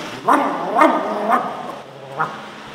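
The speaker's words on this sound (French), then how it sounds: "Non, ce n'est pas l'anxiété, ce sont des aboiements." A dog barks a handful of times at uneven intervals, the barks muffled and moderately close, with a faint whimpering tone between them.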